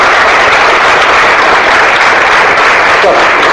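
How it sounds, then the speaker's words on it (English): Youth group at a confidence-building workshop in Hyderabad claps together, a loud, continuous burst of many hands filling the room without pause or voices. "Give him a clap, please."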